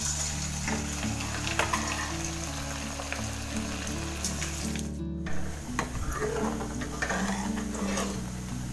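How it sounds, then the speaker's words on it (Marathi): Chicken pakoras fry in a pan of hot oil, giving a steady crackling sizzle with a low hum underneath and no talking. "हे बघा इथे तळायचं काम चाललंय"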